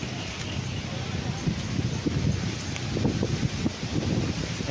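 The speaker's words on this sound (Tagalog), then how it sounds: "Yan, malakas ang hangin mga kaprops." Strong wind blows across a flat riverside farm lot planted with coconut, lanzones and banana in Liliw, Laguna, roaring and buffeting the microphone in uneven gusts, with the sound swelling toward the middle.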